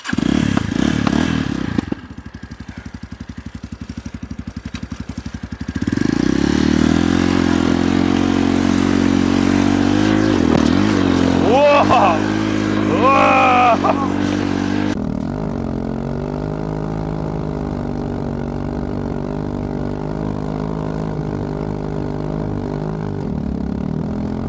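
A bamX enduro motorcycle ridden in winter, its engine droning steadily, then revving up with rising whines and clattering scrapes mid-ride before settling to a steady hum, loud and close.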